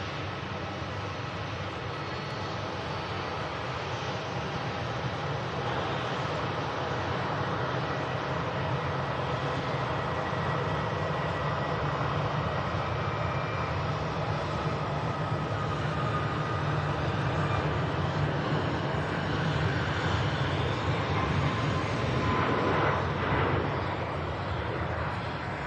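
A Boeing 737 MAX airliner on its takeoff roll at Manchester Airport gives off a steady, loud, broadband jet roar that holds for the whole stretch and swells slightly near the end, with no talk over it.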